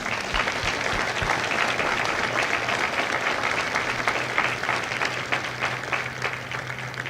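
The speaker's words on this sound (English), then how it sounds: "Ladies and gentlemen, let's give them a round of applause." An audience at a Marine recruit graduation ceremony at MCRD San Diego gives a sustained round of applause, dense steady clapping that gradually eases toward the end.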